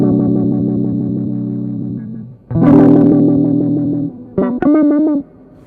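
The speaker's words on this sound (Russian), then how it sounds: "Тембровое вибрато наиболее ярко выражено, естественно, когда закрыт фильтр." Soviet-made guitar effects pedal set to timbre vibrato with its filter closed, giving sustained electric guitar notes and chords a wavering, filtered tone, played in a few phrases separated by short gaps.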